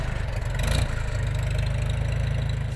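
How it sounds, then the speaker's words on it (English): A 58-year-old farm tractor engine idles nearby with a steady low, even chugging pulse, loud and continuous, with a brief slight surge partway through and no talking. "58-year-old tractor that runs like the new one."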